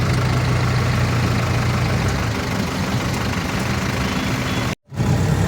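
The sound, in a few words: road traffic with idling vehicle engines in Tirupati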